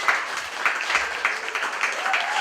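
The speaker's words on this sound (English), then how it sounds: "Can we get a round of applause for all the comedians tonight?" A comedy club audience claps and cheers for the night's comedians, a dense burst of applause with a few whoops, moderately loud and steady throughout.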